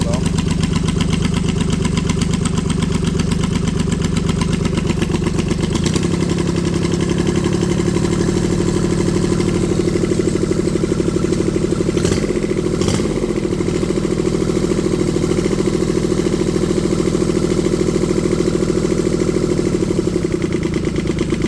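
A Kubota D640 diesel engine fitted with a D722 head idles steadily and close by, a continuous low mechanical rumble with an even, slightly uneven-beat throb that holds for the whole stretch.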